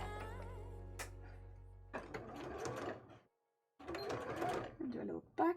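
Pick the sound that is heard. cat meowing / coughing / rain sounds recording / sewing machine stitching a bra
sewing machine stitching a bra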